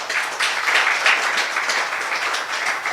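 Steady audience applause fills the room after a recited Hindi poem at a talk, a dense wash of clapping at even loudness with no voices over it.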